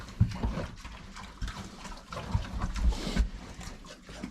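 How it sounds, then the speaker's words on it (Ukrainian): Pigs on a small farm munch beets and feed pellets, with irregular wet chewing, snuffling and grunts close by, faint overall. "дав буряка, дав гранул і вони тямкають"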